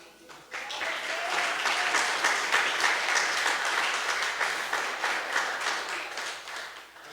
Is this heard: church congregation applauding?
yes